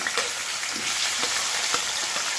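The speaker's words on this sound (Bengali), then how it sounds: "আমি পেঁয়াজ কুচি দিয়ে দিলাম, টমেটো কুচি আর লঙ্কা" Chopped onion, tomato and chilli sizzle steadily in hot oil in a pan for a Patiala chicken dish, with occasional stirring scrapes over the constant frying hiss.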